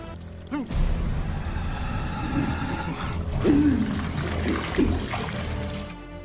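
Water runs from a tap into a luxurious bathtub in a film scene, a steady rushing flow that holds throughout, with strained, groaning vocal sounds rising over it midway.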